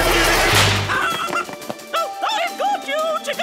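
A cartoon chicken gives a burst of rapid, squawky clucks and honking calls, loud and close. They come just after a crashing, noisy swell of sound.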